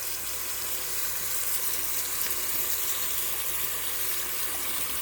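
Hot water pouring steadily over noodles in a kitchen, a continuous even hissing splash held at a constant level throughout, close and moderately loud.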